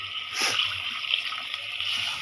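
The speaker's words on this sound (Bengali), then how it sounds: "এখানে আমি ডিম দিয়ে একটু পানি দিয়ে দিছি আরও দিব পানি" Water is poured into a pan of egg curry, a short splashing gush near the start that settles into a soft trickling hiss.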